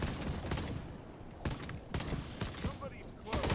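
Gunfire from shooting in the video game Hawked comes in bursts with short gaps, moderately loud, over other game noise.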